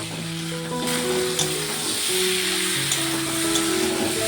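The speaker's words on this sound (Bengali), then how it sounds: "কচুটাকে দিয়েও মশলার সঙ্গে সুন্দর করে একটু কষিয়ে রান্না করে নেব" Steamed taro pieces sautéing with spices in a pan, a steady close sizzle with soft stirring scrapes running throughout, no talking.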